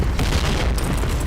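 A grenade explosion in a shooter video game, a loud broad booming blast filling the whole moment, with dense rumbling noise and no clear talk.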